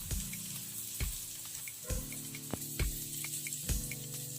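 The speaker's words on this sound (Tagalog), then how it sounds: "Dito sa sinangag, puro halo ang gagawin talaga natin dito eh." Garlic fried rice sizzles and hisses in a pan, with faint, steady frying noise and periodic soft knocks and scrapes as it is stirred.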